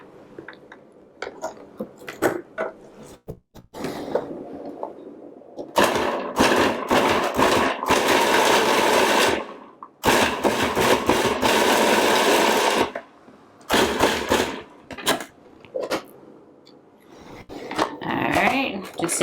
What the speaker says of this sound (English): I'm going to pulse them until they are crumbly